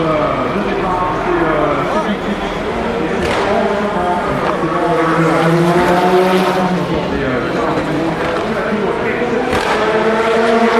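GT race cars streaming past on a circuit, several loud engines overlapping with rising and falling pitch as they approach and pass close by, a continuous roar with talk over it.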